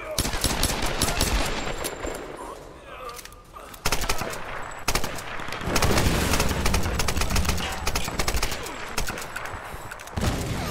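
Rapid bursts of automatic gunfire in the video game Tomb Raider (2013) crackle almost continuously, with single heavy shots and booming impacts mixed in, loud and close throughout.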